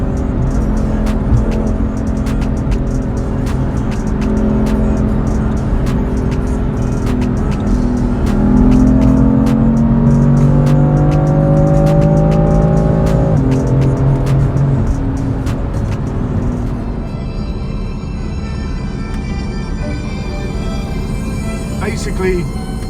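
A 2017 BMW M3 with a Stage 1 tune is driven, its engine droning loud and close with rising tones as it accelerates through gears, then settling to a lighter cruise, and a voice talks over it.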